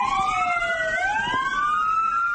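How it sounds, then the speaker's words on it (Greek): Fire engine sirens sound at the stroke of New Year, a loud, steady electronic wail that rises and falls smoothly in pitch, heard close and continuous with no talk. "Τη στιγμή της αλλαγής του χρόνου ήχησαν οι σιρήνες όλων των πυροσβεστικών οχημάτων."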